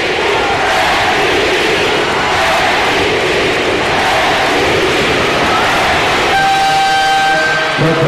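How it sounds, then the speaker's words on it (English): A capacity basketball crowd at a San Mig Coffee finals game chants for Marc Pingris, a loud continuous roar filling the arena, with a horn-like tone sounding near the end. "This capacity crowd chanting wanting Pingris to bag finals MVP."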